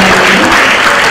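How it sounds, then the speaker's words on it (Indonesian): Audience applause at a public lecture in a hall, a dense, steady burst of clapping that fills the whole moment with no voices over it. "mari kita berikan tepuk tangan sekali lagi untuk Bu Ani"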